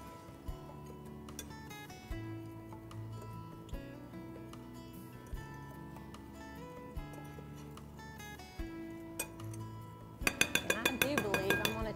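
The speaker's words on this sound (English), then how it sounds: "So I'm just going to stir, combine this." A spoon stirring a mixture in a bowl for pistachio cream cheese fingers, with soft rhythmic scraping and light clinks, quiet and close over faint background music, turning into a brief run of brisker tapping near the end.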